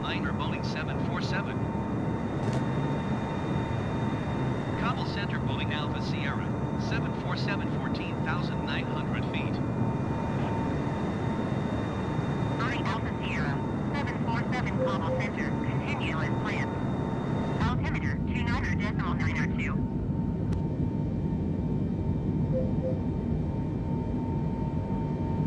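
Steady airplane engine drone in flight on a route from Kabul toward K2, a continuous loud broadband roar filling the whole stretch, with a person talking over it much of the time and the tone changing slightly near the end.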